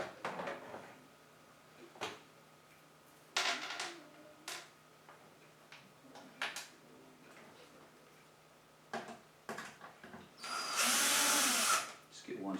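A power drill whirs in short, separate bursts while screws are driven into a Fleximount workstation, with a longer, louder run near the end and people talking between the bursts.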